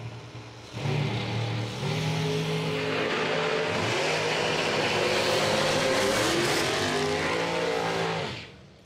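Drag racing cars at a bracket racing event launch and roar down the strip, one using a throttle stop, their engines loud and sustained for several seconds before fading away, with no talking.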